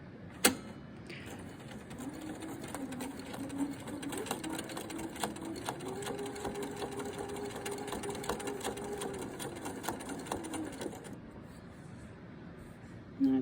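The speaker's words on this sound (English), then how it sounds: "let's get started and see how easy this stitching is" A sewing machine stitches quilt binding in a steady, fast, close mechanical whir with a rapid needle rhythm, running for about ten seconds before stopping.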